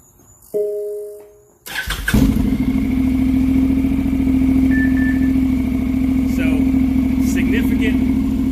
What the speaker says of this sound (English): we're going to turn it on and see what it sounds like now with the new exhaust